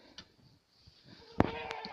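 A goat kept on a small natural poultry farm in winter lets out a single loud bleat partway through, followed by a brief wavering tail, against a quiet outdoor background.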